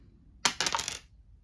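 A d4 die from a D&D Essentials Kit dropping onto a table, several quick close clattering taps as it lands and rattles to a stop, with no talk.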